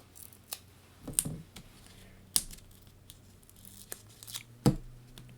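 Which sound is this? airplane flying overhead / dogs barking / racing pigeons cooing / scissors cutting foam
scissors cutting foam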